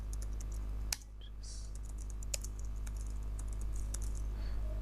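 Someone types an SQL query on a computer keyboard: a run of light, rapid key clicks with one sharper tap, close and fairly quiet over a steady low hum, with no talking.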